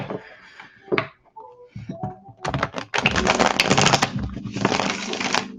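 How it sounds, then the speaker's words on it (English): Tarot cards being shuffled by hand, a dense papery riffling and slapping that builds into a steady, close-up flutter over the last few seconds after a few scattered taps and handling noises. "Let's give it one more shuffle."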